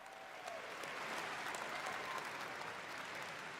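A large BlizzCon 2023 convention crowd applauds in a dense, sustained wash of clapping that stays steady throughout, heard from a distance with no voices over it.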